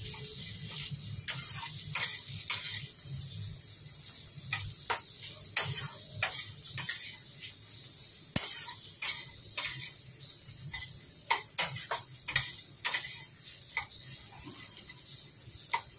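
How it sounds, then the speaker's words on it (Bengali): Potatoes and onions sizzle as they fry in a pan over dried chilli tempering, a steady close crackle broken by frequent sharp ticks and taps of a spatula stirring, with no talk. "এখানে রুটি খাওয়ার জন্য আলু দিয়ে পেঁয়াজ দিয়ে একটু ভাজা ভাজা করে নিচ্ছি"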